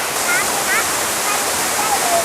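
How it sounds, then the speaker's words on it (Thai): A waterfall at a Thai forest site roars as a steady, close wash of falling water, with a few faint bird chirps above it and someone speaking over the flow. "เดี๋ยวเราจะลองไปที่น้ำตกดูนะครับ"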